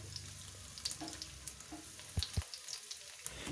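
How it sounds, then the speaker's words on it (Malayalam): A soft, steady sizzle of cauliflower deep-frying in hot oil, with light crackles and a couple of quiet knocks from the pan. "ചൂടായ എണ്ണയിലേക്കിട്ട് അതൊന്ന് നല്ലപോലെ ഒന്ന് വറുത്തെടുക്കാം"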